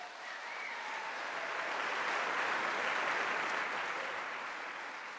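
A large crowd claps steadily and loudly, building slightly in the middle before easing off, with no voices standing out.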